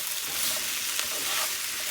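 Smoked sausage and potatoes sizzle in a skillet with a loud, steady, close frying hiss and faint crackles.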